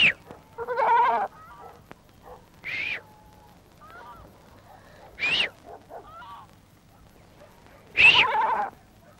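Goats on an old farm bleat in several separate loud, nasal cries spaced seconds apart against a quiet outdoor background.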